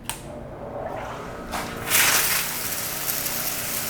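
A pump drives a spray bar in a hydrographic dipping tank, sending water gushing and splashing in a continuous close rush that swells after a brief start.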